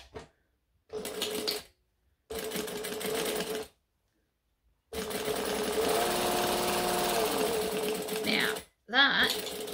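A sewing machine stitches long lines on fabric in separate close, loud bursts: two short runs, then a longer sustained run of several seconds, with silent pauses between and a brief final burst.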